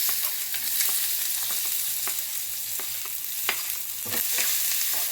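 Onions fry in oil on a stove for a dried shrimp and tomato curry, a bright continuous sizzle punctuated by soft stirring clicks and scrapes, close and steady, with no speech.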